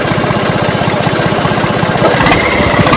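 A small tractor engine runs close and loud with a steady low chugging pulse, rough and unbroken, shifting slightly in tone partway through.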